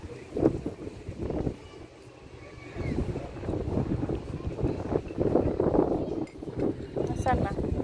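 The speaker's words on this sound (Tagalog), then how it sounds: "Ay, ang lakas ng hangin." Strong gusts batter the microphone outdoors near water, producing a steady rushing roar with surges under occasional voices.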